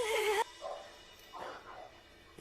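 A small dog whimpers and yips in a few short, high, wavering cries, close by and fairly faint after a louder opening burst, with no talk over it.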